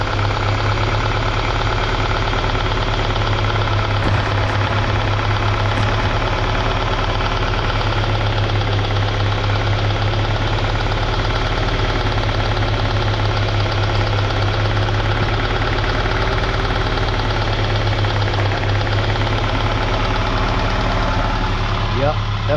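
A car with a throttle position sensor fault drives with its engine running, giving a steady, loud, continuous mid-range drone and rumble throughout, with faint road and cabin noise.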